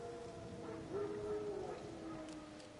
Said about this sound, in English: No. Wild dogs. Yes. More dangerous than wolves.